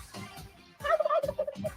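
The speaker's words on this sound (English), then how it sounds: "Let's see how many turkeys we got here." A turkey gobbles in a short rapid warbling burst, loud and clear after a brief quieter call, with no talking.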